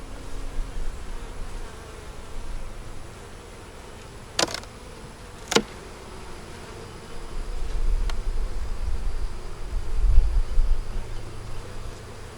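Honey bees buzz at an open hive, a steady low insect drone with two sharp clicks of equipment partway through and a louder swell of buzzing toward the end.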